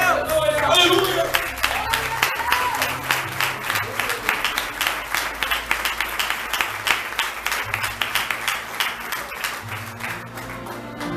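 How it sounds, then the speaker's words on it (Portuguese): A church congregation claps together in a loud, steady rhythmic applause that runs throughout, with voices and shouts mixed in at the start. "Pare com as palmas."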